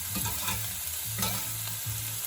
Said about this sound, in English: we're going to add the veg for the sofrito. Try not to miss too much. Lovely sizzle going on there.